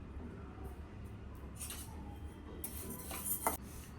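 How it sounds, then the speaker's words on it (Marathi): Rice grains being dry roasted in a pan for chakli bhajani, with scattered metallic scrapes and clinks of a utensil stirring against the pan over a low background hum, growing busier near the end. "याचप्रमाणे बाकीचे सर्व तांदूळ खमंग भाजून घेते"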